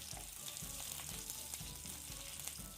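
Curry leaves frying lightly in hot oil in a pan while cooking a banana stem palya, a steady close crackling sizzle with small pops throughout, no voices.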